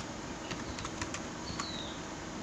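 Keystrokes on a computer keyboard during a phone recovery install, a handful of light clicks spread over a steady hiss, fairly faint and with no voices.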